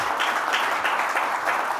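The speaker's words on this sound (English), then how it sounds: "It's time for uproarious applause." A conference audience applauds a presenter after a session, steady dense clapping from a crowd that sounds fairly distant and even, with no voices over it.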